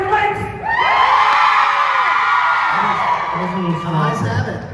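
A crowd at a Supernatural fan convention screams and cheers loudly, a dense sustained roar of many voices that rises sharply and then fades into lower scattered shouts.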